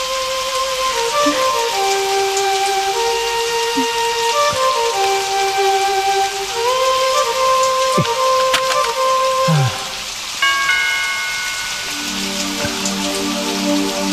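Sudden rain falls steadily throughout, a continuous hiss of drops on surfaces, with background music tones layered over it and no talking.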